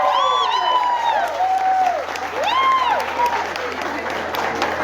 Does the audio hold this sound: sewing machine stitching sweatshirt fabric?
no